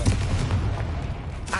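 A Confringo blasting spell explodes in the video game Hogwarts Legacy as a deep, booming rumble that stays loud and sustained across the whole moment, with no talk over it.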